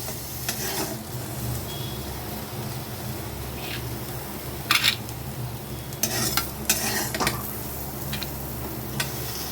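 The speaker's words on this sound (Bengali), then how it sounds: "এখন হাই ফ্লেমে রেখে আমি দু থেকে তিন মিনিট বেগুনটাকে একটু ভেজে নেব" Eggplant fries in oil over a high flame, giving a steady close sizzle under occasional clinks and scrapes of a spatula stirring the pan.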